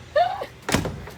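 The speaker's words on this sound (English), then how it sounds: "So this is the bear-resistant door." A metal bear-resistant door on a Tiffin RV, heard as a short scraping swing and then a solid metallic thunk as it shuts, close and fairly loud.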